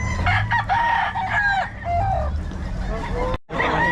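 A Sweater breed gamefowl rooster crows loudly and close, with a drawn-out cock-a-doodle-doo and some clucking, while people chatter nearby and a brief dropout cuts in near the end.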